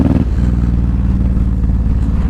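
A small motorcycle engine idles nearby at steady volume, a low, even mechanical rumble with a brief louder burst at the start.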